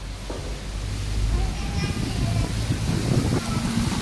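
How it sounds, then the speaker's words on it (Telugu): Strong wind blows across an open village area, a continuous low rumbling roar buffeting the microphone with rising and falling gusts, while a voice speaks faintly underneath. "మొత్తం గాలే తోలుతుంది"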